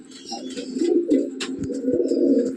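A female pure teddy pigeon in a loft gives a soft, throaty cooing at close range, a low rolling coo sustained through the moment with a few faint scuffs and clicks in the background.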